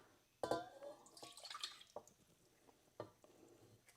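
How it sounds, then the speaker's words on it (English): Water poured into a container as the first step of mixing lye for soap making: quiet, close trickling with scattered drips and a few sharp clinks against the vessel. "Water in first, okay."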